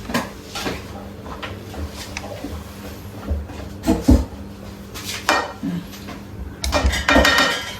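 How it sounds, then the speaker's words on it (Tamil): A spoon stirs a potato mixture in a metal cooking pan, producing irregular scraping clinks and knocks close by that grow busier toward the end, with no voices. "அதில் கூட நல்லா கிளறி விடுங்க ஃபுல்லாக இந்த உருளைக்கிழங்கு மிக்ஸ் பண்ணிக்கலாம்"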